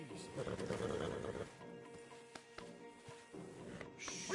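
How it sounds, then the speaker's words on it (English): A horse whinnies in the Red Dead Redemption 2 video game, its neigh loud and close over a busy game soundscape, with a voice speaking softly nearby. "Marston, you're gonna tether him up to Javier's horse"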